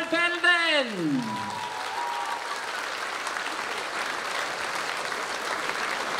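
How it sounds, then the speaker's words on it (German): Applause at a Taekwondo show in Saalfelden marking 30 years of Taekwondo, opening with a brief voice, then steady, dense clapping from a crowd that holds at an even level to the end. "Applaus."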